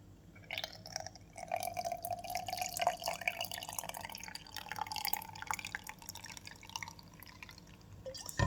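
Milk poured into a pan for desi egg halwa, a steady close trickle of liquid lasting several seconds at moderate level, with faint kitchen clatter and no talk.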